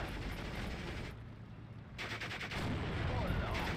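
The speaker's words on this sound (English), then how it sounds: "And this Abrams is shooting at him." Tank and battlefield gunfire in the Steel Division: Normandy 44 video game, a steady rumble of distant cannon and small-arms shots with a brief lull and then a renewed dense barrage.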